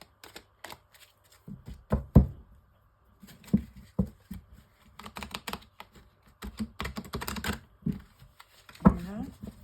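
Oracle cards being shuffled and laid out for a reading, giving soft, irregular papery riffles and taps at close range, broken by quiet pauses, with a voice speaking intermittently.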